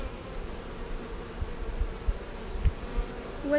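Honey bees in an Italian nucleus hive fan their wings, producing a steady, low, close buzzing hum with a few louder swells near the end, no voices heard.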